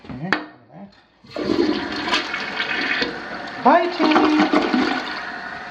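A house toilet flushes during an interior plumbing inspection: a close, loud rush and swirl of water after a short pause, with a voice speaking briefly over it.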